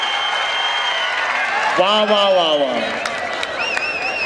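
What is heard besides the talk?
crowd applause at a kabaddi match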